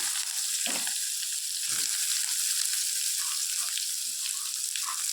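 Chopped onion fries in a pan for Bombay chutney, a bright, even sizzle with a few soft thuds and scrapes from stirring, close and steady, with no voices.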